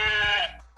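A single close sheep bleat, loud and wavering, fading out within half a second with no other sounds.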